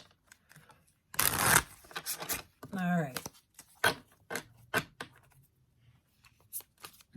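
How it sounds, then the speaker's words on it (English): A tarot deck is shuffled up close, a loud riffling burst followed by scattered quick card slaps and taps, with a person briefly speaking between the sounds. "I'll just do one quick shuffle here and then cut them"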